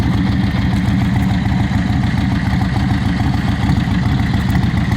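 A 2004 Yamaha Road Star 1700 bobber chopper idles steadily up close, its big V-twin exhaust giving a loud, deep, even rumble with no talking over it.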